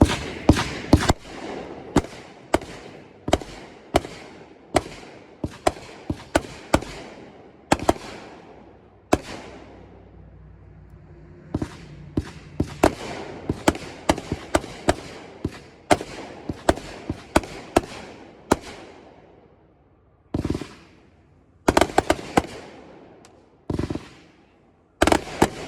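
A firework cake called Bodacious fires at a night demo, sending out a rapid series of sharp, loud booming shots in irregular bursts, with short pauses between the volleys.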